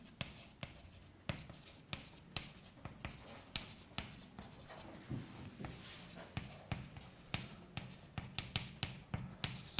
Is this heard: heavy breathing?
no